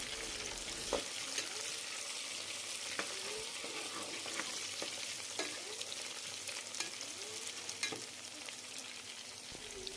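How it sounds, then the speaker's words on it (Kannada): Mint and coriander leaves frying in oil for mutton biryani, a constant soft crackling sizzle with repeated light clicks and scrapes of a spatula stirring the pan, no talking. "ಸ್ವಲ್ಪ ಪುದೀನ ಹಾಗೆ ಸ್ವಲ್ಪ ಕೊತ್ತಂಬರಿ ಸೊಪ್ಪು ಹಾಕ್ಕೊಂಡು ಈ ಎಣ್ಣೆಯಲ್ಲಿ ಫ್ರೈ ಮಾಡಿ"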